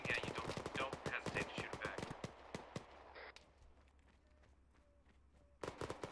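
Gunfire from inside a building in an Arma military operation: rapid sharp shots and bursts at close range, then a quieter stretch of faint distant cracks before loud firing resumes.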